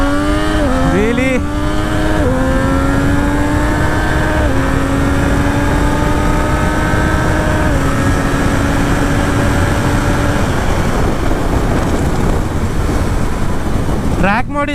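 A 2023 Triumph Street Triple RS motorcycle in track mode accelerates hard, its engine note climbing steeply through several quick gear changes, loud and close, then settling into a steady high-speed roar with wind noise.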